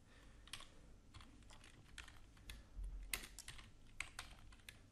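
Someone types on a computer keyboard while working in PowerPoint 2019, a steady run of close, crisp key clicks with short pauses and no talking.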